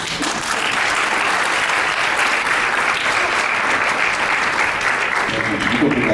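Loud, sustained applause from a lecture audience rolls on continuously, a thick wash of many hands clapping at once.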